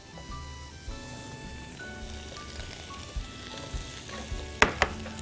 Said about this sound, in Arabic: هحط معلقة سمنة هنا